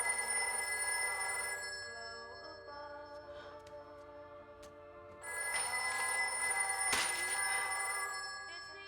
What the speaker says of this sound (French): le téléphone se mit soudain à sonner